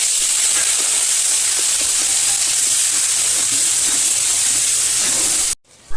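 Ghee sizzling and hissing steadily in a hot pan with turmeric and spices during winter home cooking, a loud, continuous broadband fry with no talk, cut off abruptly near the end.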